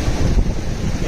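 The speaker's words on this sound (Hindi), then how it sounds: "एक तो वैसे ही ठंडी हवा चल रही है" Steady wind roaring and buffeting against the microphone in the cold Rajgundha Valley mountains, a low rumbling gust that holds for about a second without letting up.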